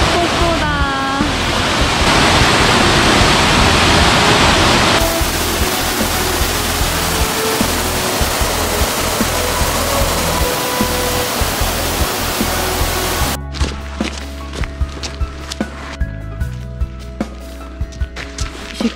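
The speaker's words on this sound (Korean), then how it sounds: "폭포다." A waterfall on a hiking trail near Rolley Lake outside Vancouver roars loudly and steadily as a constant rush of water. Then it gives way to a quieter scene with voices and scattered knocks.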